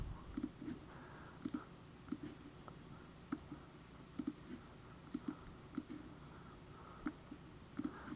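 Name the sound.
mouse clicking to place items in electrical layout software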